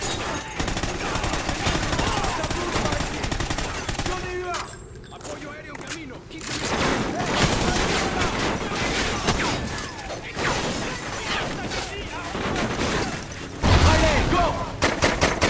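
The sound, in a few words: gunfire in a video game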